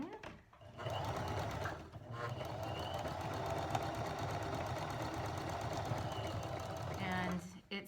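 A 4-step buttonhole sewing machine runs steadily for several seconds, a close, even mechanical whir with brief pauses at the start and end; speech is faintly present.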